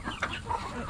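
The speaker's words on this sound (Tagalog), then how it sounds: "healthy naman lahat ng ating mga manok" Farm chickens, healthy birds near a pond, clucking in short, close, overlapping calls over a low background rumble.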